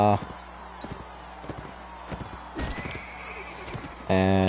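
In a video game, a horse whinnies loudly and its hooves clop in an uneven rhythm, with thuds and impacts in between, ending on a sustained whinny.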